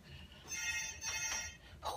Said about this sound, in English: Who is calling the phone?